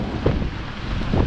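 Steady beach wind at a campsite in Dinahican, Infanta, Quezon buffeting the microphone, a broad rumbling roar with gusts swelling now and then, no voices.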